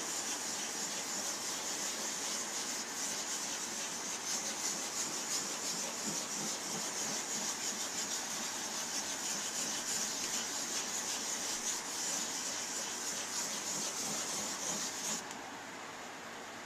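A pad rubs continuously over a guitar's french-polish finish with pumice, a steady close scratchy hiss that goes on without pause and softens briefly near the end.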